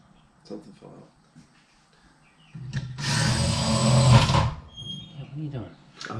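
A power drill whines steadily for about a second and a half while drilling out the lock tumbler on a 1936 Ford, close and loud, with people talking quietly before and after.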